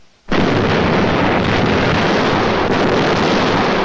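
Artillery shell explosion on a World War II siege setting, a sudden loud blast that swells into a sustained, roaring broadband rumble lasting several seconds, close and overwhelming.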